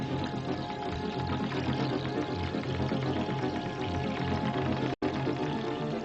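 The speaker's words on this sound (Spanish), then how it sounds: "¿Y qué pasa si llenamos de agua el recipiente?" Water being poured to fill a container, a steady gurgling pour with a brief cut near the end, close and fairly quiet.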